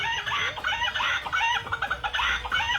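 A dancing rooster toy repeats electronic clucking and crowing calls in quick bursts, close and moderately loud, with no talking.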